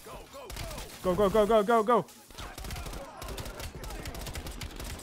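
Gunfire in Call of Duty Black Ops Cold War, a rapid burst of shots mixed with loud combat effects and a voice repeatedly shouting commands over it, with ongoing battle noise throughout.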